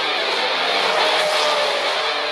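800-horsepower racing trucks at Crandon International Raceway, a loud, dense engine roar that holds steady with a slight swell in the middle, close and continuous with no pauses.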